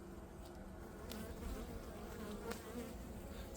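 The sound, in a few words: honey bees buzzing around an open hive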